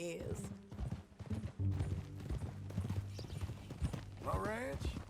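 Horse hooves clip-clopping in the video game Red Dead Redemption 2, a steady walking rhythm of hoofbeats under conversation between characters, with a brief whinny near the end.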